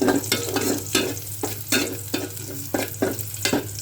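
Oil with onion and garlic sizzling in a pan as a tempering is added, with repeated stirring scrapes in a steady rhythm over a constant loud fry, close up and without talk.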